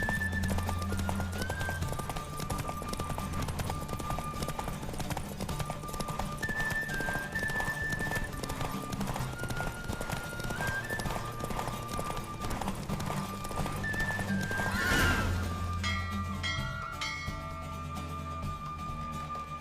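Roach, a horse in The Witcher 3 video game, gallops with rapid, continuous clip-clopping hooves under a melodic music score and whinnies near the end.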